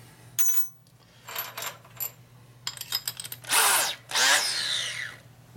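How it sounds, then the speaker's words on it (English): An old electric drill bores a hole in a metal plate on a custom chopper bike, with several short bursts and clicks, then two longer whining runs of the motor up close. "So Dad's old drill worked good."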